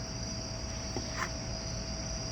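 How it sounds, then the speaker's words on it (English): A cricket chirps steadily outdoors, a faint, continuous high trill with no talking over it. "Ooh, that's a cricket."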